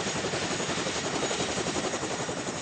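Military helicopter in flight during an Afghanistan supply operation, its rotor beating in a loud, steady, continuous thump with no voices present.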